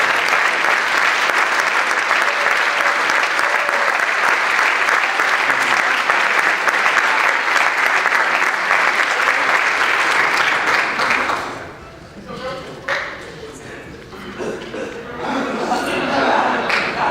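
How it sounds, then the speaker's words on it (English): An audience claps loudly and steadily for a softball team at a school awards event, with some chuckling, then the applause dies away into scattered murmurs and talk. "Please give them a big round of applause."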